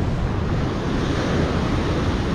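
Loud, continuous roar of ocean surf washing onto Pantai Seruni beach, Donorojo, Pacitan, with wind buffeting the microphone throughout.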